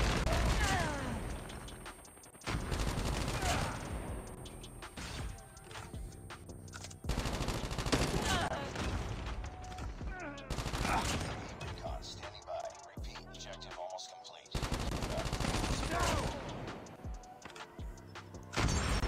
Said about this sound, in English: Oh my gosh, I just got shot on the side.